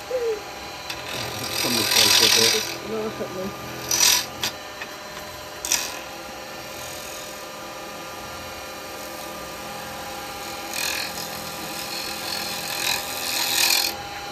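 Wood on a lathe being trued up with a carbide chisel while turning a resin goblet, with intermittent scraping rasps in short bursts, loudest early on and again near the end, over a steady motor hum.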